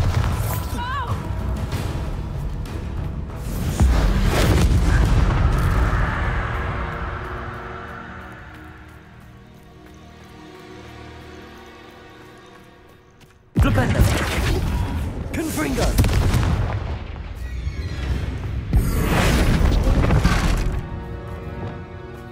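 Bombarda blasting spells from the video game Hogwarts Legacy erupt in loud, sharp explosive booms, with two sudden bursts standing out in the second half, mixed with game sounds and voices talking.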